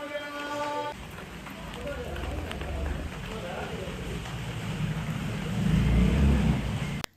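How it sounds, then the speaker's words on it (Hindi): Heavy winter rain pours steadily outside a home, a dense continuous hiss that swells louder toward the end, following a brief faint tonal sound at the start. "काफ़ी तेज़ बारिश शुरू हो गई है।"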